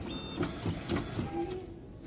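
An Olivetti PR2 Plus passbook printer whirs and clatters in short repeated bursts after a paper-jam error repair, a steady motor hum underneath with a few higher electronic tones.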